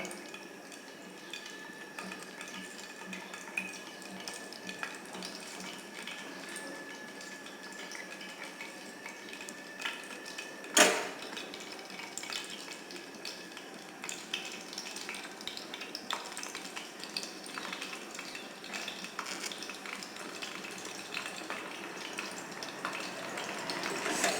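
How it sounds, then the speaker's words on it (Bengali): Semai pitha frying in hot oil, a steady soft sizzle and bubbling that runs throughout, with one brief sharp clink of a utensil partway through. "পিঠাগুলা তৈরি হয়ে গেছে এখন আমি ভেজে ফেলবো এগুলাকে"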